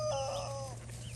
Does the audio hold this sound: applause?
no